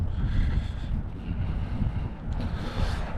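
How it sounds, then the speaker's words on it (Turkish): Cold wind blows steadily across an outdoor microphone in Canada, a continuous low rumbling buffet that swells and eases slightly, with no talking. "O kadar soğuk bir rüzgar esiyor ki şu anda."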